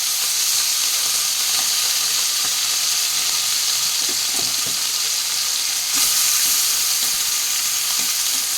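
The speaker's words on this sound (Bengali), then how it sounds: "মাছটা ভেজে নেব, আর এই মাছের ঝাল করব।" Mola fish coated in salt and turmeric frying in hot oil in a wok, a loud steady hiss and sizzle throughout with occasional small pops, close up and without talk.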